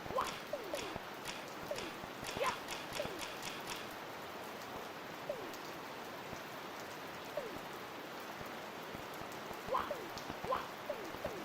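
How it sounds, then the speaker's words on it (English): Rain ambience in a homemade Nintendo 64 game plays as a soft, steady hiss, with intermittent chirping and clicking sounds scattered over it at a low, even level. "The rain sound lulled everyone to bed."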